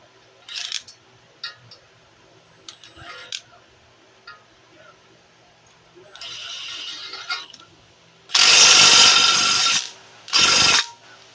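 A 15mm suspension bolt on a 2017 Dodge Charger during a ball joint replacement is tightened, with scattered tool clicks and ratchet ticks, then two loud bursts of a power tool close by and no talking.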